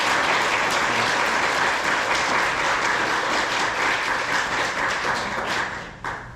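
An audience at a Buddhist temple dharma talk gives a big round of applause to welcome a visiting monk: loud, dense clapping from a crowd that holds steady, then thins and stops after about six seconds.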